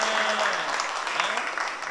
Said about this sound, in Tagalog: Ang hina naman ng palakpak.